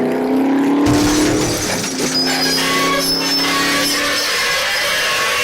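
Hot Wheels diecast cars race down a track in a semifinal heat, a loud continuous rolling rattle of small wheels on plastic track with shifting whines as they run.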